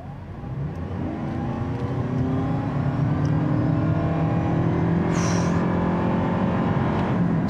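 A 2023 Toyota Prius Prime plug-in hybrid at full throttle on a slight uphill, with a steady, loud drone of engine and electric whine rising smoothly in pitch over several seconds.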